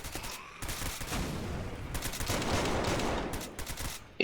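Rapid bursts of gunfire from boosted weapons such as a rocket launcher and pistol in the Zombie Uprising video game, sustained and dense over most of the stretch with no talk.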